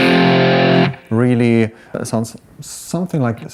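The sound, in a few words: electric guitar with distortion playing a riff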